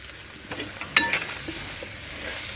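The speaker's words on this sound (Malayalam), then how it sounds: "സബോളേനെ നമ്മളതിൻ്റെ കൂടെ ഇട്ടിട്ട് ഇളക്കുന്നുണ്ട് കേട്ടോ" Fried onions being stirred in a pan for chicken curry, with soft scraping strokes and a faint sizzle, a couple of sharper clinks near the middle, close and moderately quiet.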